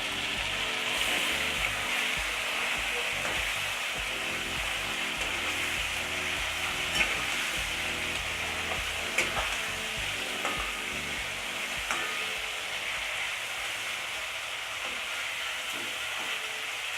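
Pieces of hilsa fish sizzle and fry in a pan of mustard sauce, a steady dense crackle running unbroken, with a few faint utensil taps near the end.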